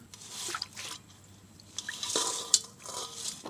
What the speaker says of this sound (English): It's just tap water poured in his bowl.